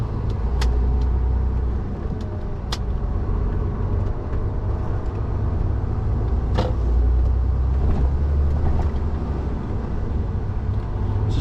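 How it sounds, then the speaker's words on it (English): Cab of a delivery truck struggling to gain speed with no acceleration, a continuous low engine drone and road rumble, steady and moderately loud, with a few faint clicks and knocks. "Just getting no acceleration at the moment on this truck."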